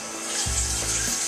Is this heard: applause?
no